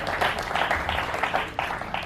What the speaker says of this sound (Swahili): Tumpigie Yesu makofi jamani.